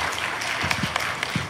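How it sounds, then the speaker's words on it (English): Brief burst of audience applause and scattered cheers at a comic convention panel at Orlando Megacon, dense clapping from a crowd filling the room. "Fucking cheer for Mitch."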